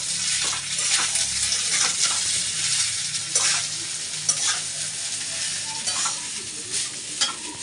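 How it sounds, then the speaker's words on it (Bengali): Rice frying and being stirred in a pan: a steady hiss of sizzling oil with repeated scraping and stirring strokes up close, continuing throughout with no voices. "এই যে ভাত ভাজা করছি"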